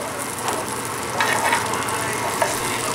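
Cuban steak sizzles loudly in a hot pan while being stirred constantly, a dense close frying crackle with occasional scraping clacks of the utensil.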